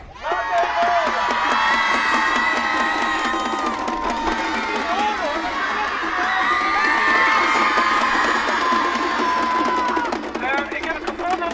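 A crowd of fans cheers and shouts together at close range, a loud sustained roar of whoops and high children's voices that swells and holds for several seconds before easing, with no separate speech over it.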